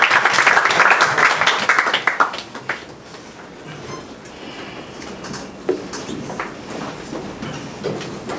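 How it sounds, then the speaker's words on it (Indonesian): Church congregation applauding, loud dense clapping for the first two and a half seconds, then fading into a lower, scattered patter of claps and room noise. "mari berikan apresiasi, tepuk tangan."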